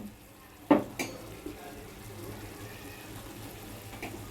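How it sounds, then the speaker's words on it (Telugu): Egg biryani mixture being stirred in a pot, a spoon scraping and knocking against the metal at the start over a soft sizzle, then quieter mixing with faint clinks. "మొత్తం ఇలా కలుపుకుంటాను చూడండి"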